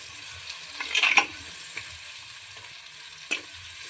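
Chopped tomatoes fry in a pan for a fish curry, a soft steady sizzle broken by a few scraping stirs near the start and one more near the end, with no voices.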